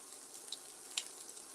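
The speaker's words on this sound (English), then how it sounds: "can you hear how it's sizzling now?" A low-carb stuffed crust pizza sizzles quietly in a pan, a faint steady hiss with a couple of brief sharp pops, with no voices.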